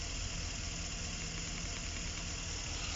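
GMC Savana van engine running smoothly at idle after a misfire repair, giving a steady, even hum with no voices.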